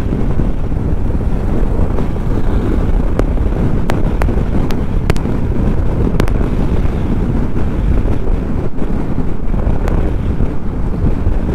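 Constant loud wind buffeting roars across the microphone of a moving motorbike, broadband and unbroken from start to finish, with a few faint clicks above it.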